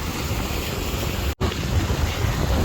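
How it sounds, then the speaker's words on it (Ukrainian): Big sea waves breaking near large rocks along the shore: a constant roar of surf mixed with wind buffeting the microphone, broken by a brief dropout partway through, and no voices. "І такі хвилі великі."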